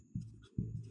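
Two short, scratchy strokes of writing on a board during a maths lesson, each a brief rasp, close and quiet with no talk over them.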